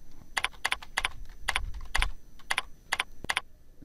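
Keys tapped on a computer keyboard entering a search word, about nine quick clicks in an uneven rhythm, close and clear with no talk.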